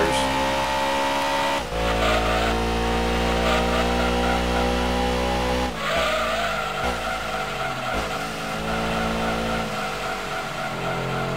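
Tires skid and squeal in the racing video game Gran Turismo 2, layered over a loud, steady engine roar with shifting pitch that runs throughout with no voices.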